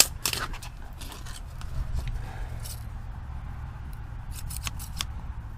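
A pair of old, very sharp scissors handled among clutter, giving a few crisp metallic clicks and snips over a low rumbling background.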